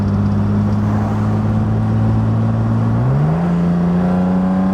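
A 1970 Mercedes 280SL with automatic transmission cruises along with a loud, steady engine hum, then its pitch steps up smoothly partway through as the gearbox shifts, with no voices.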